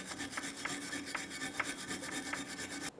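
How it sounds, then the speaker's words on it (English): A wire brush scrubs debris off a rear brake bracket on a 2014-2018 Mazda 3, giving a steady, close raspy rubbing with rhythmic stroke accents, alone with no talk. "Just using a wire brush, you can use some sandpaper. We're attempting to remove any miscellaneous debris from these areas."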